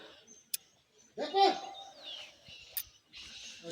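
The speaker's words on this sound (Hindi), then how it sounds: "अब चिड़िया कैसी आवाज करने लग गई है" A bird calls with a few short chirps in a quiet village setting, separated by brief clicks and faint background sounds.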